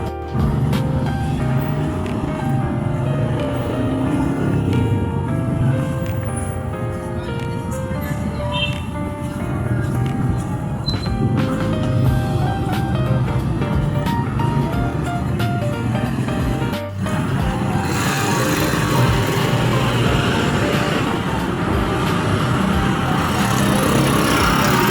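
A motorized tricycle engine drones continuously through a ride, a close, buzzy running sound that stays loud throughout, with a short dip and a shift to rougher noise partway through.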